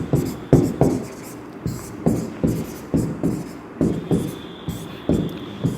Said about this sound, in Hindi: लिख देता हूं मैं